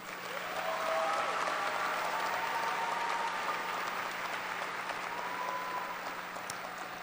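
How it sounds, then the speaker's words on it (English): Sustained applause from a large audience at a 2019 Topeka High School graduation ceremony, steady and continuous throughout, filling the hall with dense clapping at moderate distance. "Please give these students one more round of applause."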